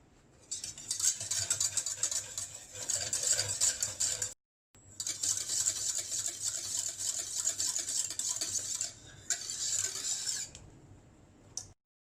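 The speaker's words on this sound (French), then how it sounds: "on va faire épaissir donc sur feu doux en continuant de remuer pendant toute la cuisson" A spoon or whisk stirs thickening pastry cream in a saucepan over low heat, a steady scraping and swishing that continues in long runs with a couple of brief pauses.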